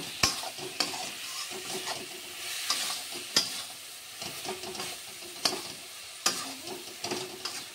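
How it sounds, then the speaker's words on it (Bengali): Chicken and spices being sautéed together in a pan for chicken kosha, a steady sizzle broken by repeated sharp scrapes and clinks of a spatula stirring at irregular intervals, close and moderately loud with no talking. "এবার সবগুলো মশলা একসাথে কিছুক্ষণ কষিয়ে নেব"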